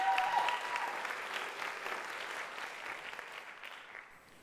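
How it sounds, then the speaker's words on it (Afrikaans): Audience applause at a live music showcase event, a steady wash of many hands clapping at moderate level that fades slightly toward the end, with no talking over it. "Ek dink ons kan vir haar nog 'n hande klap gee,"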